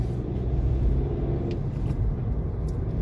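A car pulls away from a parking area during a driving exam in Kontich, its engine a steady low rumble heard from inside the cabin with no talking.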